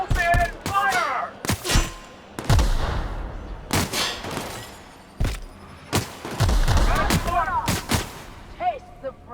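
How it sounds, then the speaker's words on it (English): Gunfire in the video game The Outer Worlds, a rapid chaotic exchange of loud close shots and booming impacts with whooshing effects, mixed with shouting voices throughout. "Open fire!"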